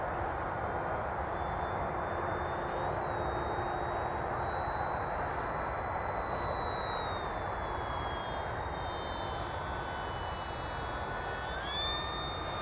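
An RC model airplane engine drones steadily overhead, a continuous whine whose pitch slides up and down as the plane banks and changes throttle, moderately distant with no talk.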